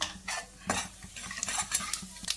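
Whole spices (a bay leaf, three cloves, cardamom, a little mace and a spoon of cumin) fry in a pan for egg masala gravy, with irregular close spoon scrapes and clinks over a soft, steady sizzle.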